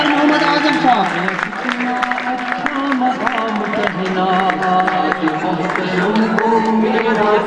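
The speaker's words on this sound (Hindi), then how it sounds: "भरपूर तालियों में अपने उस्ताद की हौसला अफजाई करें।" An audience at a school farewell party applauds a teacher with steady, moderate clapping throughout, while a voice speaks over the applause.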